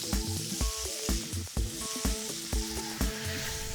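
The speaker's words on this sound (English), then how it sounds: "Beautiful sizzle. Beautiful. Perfect sear on that fish." Line fish sears in generous butter in a hot pan in a Cape Town kitchen, giving a close, loud sizzle that pulses in quick bursts, with no voices heard.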